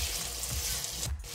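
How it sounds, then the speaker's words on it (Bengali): Ginger paste and green chillies frying in a pan, a steady close sizzle with a brief stirring scrape near the end. "তো আমি এগুলো একটু বেড়ে সেড়ে ভেজে নিব কাঁচা স্মেলটা যাওয়া পর্যন্ত।"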